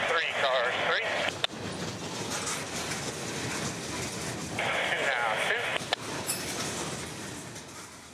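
Freight train cars rumbling and clanking slowly along a spur track, with squealing wheel bursts near the start and again midway, steady rolling noise throughout, and a person speaking briefly over it.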